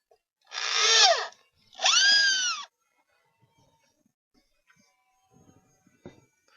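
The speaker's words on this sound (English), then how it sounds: "So I'm just going to put some screws in, secure it to the floor" A power drill drives screws into cedar tree house walls in two close, loud whirring bursts, each about a second long with a rising then falling pitch, followed by faint scattered clicks and knocks.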